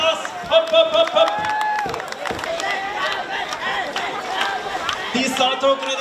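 Crowd at a trough boat race in Eisengraben clapping and cheering, with an announcer calling out over the lively, fairly close applause.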